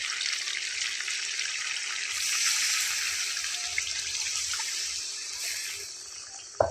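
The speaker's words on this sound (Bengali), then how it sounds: "তো এখন আমি এখানে ঝোলের পানিটা অ্যাড করে দেব।" Broth water poured into a pan of chicken and potato curry, a steady watery splashing hiss running the whole time at an even level, close and alone.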